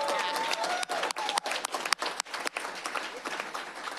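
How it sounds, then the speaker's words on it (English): Steady applause from a crowd at a school board meeting, dense clapping that carries on throughout without pause. "Let's give a big round of applause for all our recognitions."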